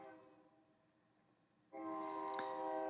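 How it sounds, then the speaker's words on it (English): A train approaches and passes nearby, starting as a faint distant rumble, then swelling suddenly into a loud, sustained roar with a horn-like tonal drone. "that's a train."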